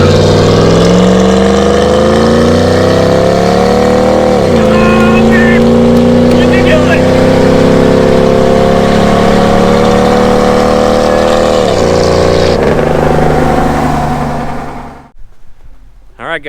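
Pickup trucks drag racing, among them a Viper-powered truck, roar loudly close by, engines climbing through rising revs with two gear shifts before cutting off abruptly, while people talk under the din.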